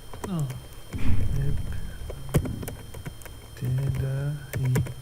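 Short bursts of keyboard clicks break in between stretches of someone talking, the taps light and close.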